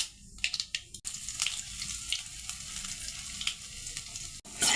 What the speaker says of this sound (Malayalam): കടുക് പൊട്ടി വന്നിട്ടുണ്ട്. നമുക്കപ്പോൾ ഇച്ചിരി ഇഞ്ചി ഇട്ട് കൊടുക്കാം.